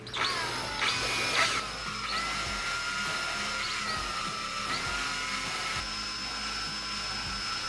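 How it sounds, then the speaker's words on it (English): A valve lapping tool spins a valve against its seat in an engine cylinder head at low speed, giving a steady, close whine with a faint grinding rasp and slight surges as it is worked in and out. "we're just gonna spin that valve at a low speed, kind of go in and out to reseal that valve seat"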